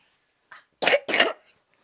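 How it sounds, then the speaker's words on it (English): Two hard, harsh coughs close to the mic, preceded by a brief softer throat sound, then quiet. "Yeah, he's coughing."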